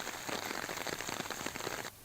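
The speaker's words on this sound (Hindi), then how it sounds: "बारां जिले के बीते 3 दिनों से लगातार बारिश जारी है" Heavy, continuous rain in Baran district, Rajasthan, falls as a dense, steady hiss of drops striking surfaces, loud and unbroken until it cuts off near the end, with no voices.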